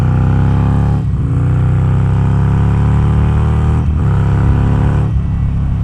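A dyno-tuned Harley-Davidson Sportster pulls hard on a highway, its loud engine roar climbing steadily in pitch through each gear, broken by two brief dips at the shifts, up close with no talking.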